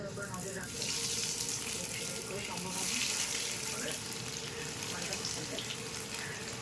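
Chira (flattened rice) and potato cutlets frying in hot oil, a steady close sizzle and crackle that swells slightly at times, moderately quiet and continuous.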